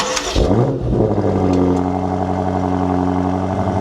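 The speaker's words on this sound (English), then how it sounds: "driving the 2024 BMW X5M Competition. Right now I'm driving it in the M2 mode" A 2024 BMW X5M Competition driven in M2 mode gives a loud, steady engine drone from inside the cabin, with a quick rev-up at the start settling into a smooth cruising hum.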